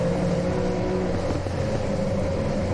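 Race cars on the final lap of a short-track race roar past in a steady, fairly distant engine drone, with no talking.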